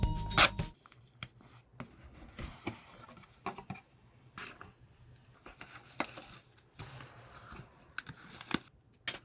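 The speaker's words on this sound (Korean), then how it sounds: "이렇게 작은 박스에 담겨 있고요. 한번 바로 뜯어볼게요." A small box for a Razer Seiren Mini microphone is torn open by hand, giving a sharp rip at the start followed by scattered crinkles, taps and rustling of cardboard and packaging, close and fairly quiet.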